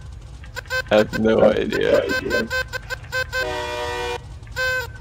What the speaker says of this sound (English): Who the fuck is honking?